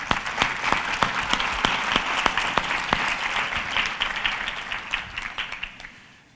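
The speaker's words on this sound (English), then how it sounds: "Let's give them a round of applause and welcome them to the stage." Conference audience applauding as executives, including Hawaii Pacific Health CEO Ray Vara, are welcomed onstage at a lunch keynote, a sustained round of clapping with distinct sharp individual claps standing out, fading away at the end.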